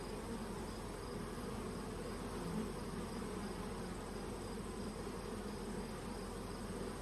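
Honeybees at a hive in a robbing frenzy make a steady, dense, continuous buzz that is fairly faint and heard alone.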